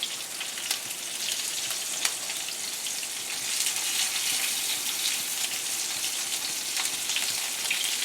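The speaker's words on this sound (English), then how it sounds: "I'm cooking these in avocado oil" Lamb chops sizzling in avocado oil in a pan, a dense, continuous crackling hiss with scattered sharp pops, close and steady throughout.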